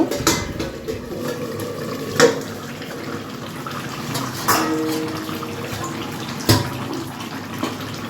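A cooking pot's lid comes off a simmering bhetki fish-bone curry. Two or three metallic clanks ring out over a wet, rushing kitchen background, with no talking.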